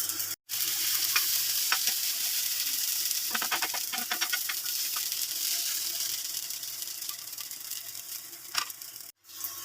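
Potato pancakes sizzling in a pan over medium-low flame, a steady bright hiss with occasional pops and crackles, close up, briefly cut twice.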